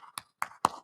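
Four brief, separate hand claps sound at an uneven pace at a business talk, close and moderately quiet, with silence between them.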